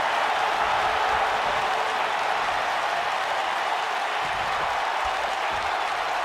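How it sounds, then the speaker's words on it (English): A large wrestling arena crowd cheers and applauds in a dense, continuous roar of clapping and noise, loud and steady throughout. "by the sound of this crowd, I think they're getting what they wanted"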